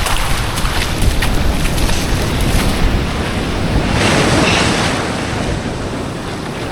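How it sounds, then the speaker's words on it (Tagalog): Ocean surf and strong wind on a fishing outing after a typhoon, with waves crashing continuously and loudly and heavy wind buffeting the microphone throughout, with no talking. "Bugbog ako sa alon."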